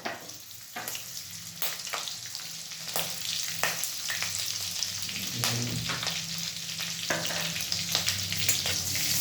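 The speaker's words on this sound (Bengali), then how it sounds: "গোটা জিরে ফোড়ন দেওয়ার পর আমি কাঁচা লঙ্কা কুচিয়ে রেখেছিলাম, সেই কাঁচা লঙ্কাগুলো দিয়ে দিলাম।" Chopped green chilies frying in oil with whole cumin seeds for cheese masala Maggi: close, steady sizzling with repeated sharp spatula scrapes and stirring knocks, growing denser toward the end.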